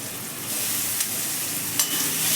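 Tomatoes hit frying onions in a home kitchen pan, giving a steady, loud hiss of sizzling with a couple of brief sharper crackles, and no one talking.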